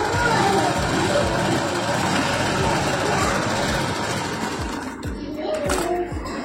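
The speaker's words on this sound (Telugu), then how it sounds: "కాలేజ్ ప్యాంట్ అన్నమాట స్టిచ్ చేస్తున్నది" A sewing machine running steadily and loudly up close while stitching a pair of college pants, with a continuous whirring drone and a brief slowdown near the end, a voice talking faintly over it.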